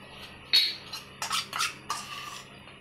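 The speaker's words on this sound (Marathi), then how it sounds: "तडक्यासाठी मी एक छोटी कढई ठेवून घेतली आता गॅसवर" A small kadhai set onto a gas stove for a ghee tadka, giving a sharp metallic clank followed by a few lighter scraping knocks, close and clear against a quiet kitchen.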